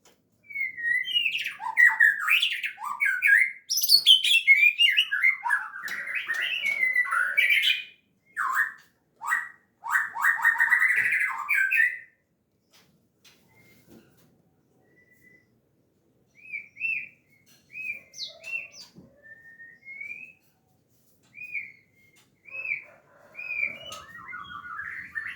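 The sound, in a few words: birds chirping and calling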